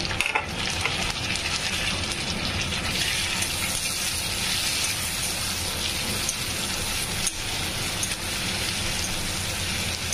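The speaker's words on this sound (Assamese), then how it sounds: "ইয়াত পিঁয়াজখিনি ফ্ৰাই হৈ গৈছে।" Onions fry in a pan for a small fish jhal, giving a steady, dense sizzle that holds close and even throughout with a faint stirring scrape near the start.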